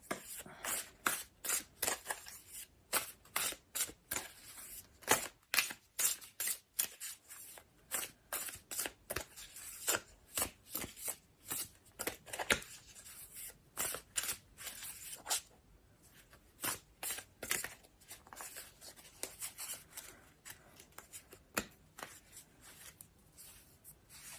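Tarot cards being shuffled by hand, a long run of crisp, rapid riffling snaps in bursts with brief pauses between, close and quiet, with no talking.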